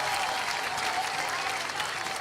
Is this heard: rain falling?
no